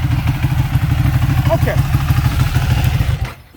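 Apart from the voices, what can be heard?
Ducati 1199R motorcycle with Termignoni exhaust revving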